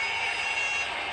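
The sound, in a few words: workout interval timer buzzer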